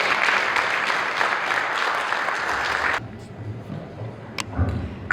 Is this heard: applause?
yes